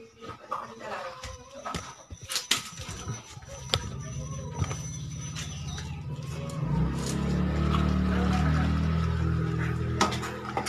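A steady low bubbling rumble of water boiling in a pot for cooking bird meat builds and holds, with scattered clinks and rustles early on.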